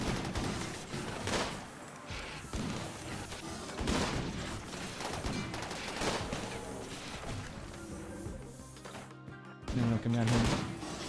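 Gunfire from colonists shooting at a turret in RimWorld, with repeated bursts of shots and crashing impacts that keep going, followed by a louder burst near the end.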